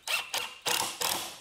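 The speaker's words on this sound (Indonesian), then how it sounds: "untuk suara impactnya udah mulai keluar nih" A Power Action CIS1 cordless impact screwdriver drives a 4 cm screw into plywood, giving four loud, rapid hammering bursts in quick succession, each a buzzing rattle of impacts with brief gaps between.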